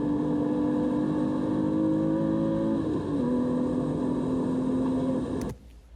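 A race car runs at full throttle along the straight of the Thunderhill West course, recorded from onboard: a loud, sustained engine drone with one gear change midway, then a sudden cut near the end.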